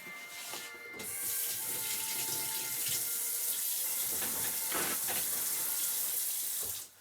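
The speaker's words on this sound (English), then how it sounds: "I will wash my hands" A kitchen tap runs for handwashing, starting after a brief pause and then a steady, close splashing stream into the sink that cuts off at the end.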